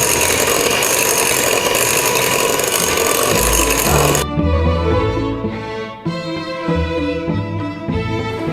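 An electric mixer whips egg whites into meringue for a marble cake with a loud, close, steady whir that runs for about four seconds, then stops and leaves background music.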